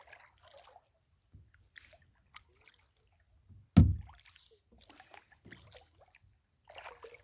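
Kayak paddling on a secluded pond after sunset, with quiet drips and soft strokes across a near-silent scene and one louder hollow knock of a paddle against the hull midway.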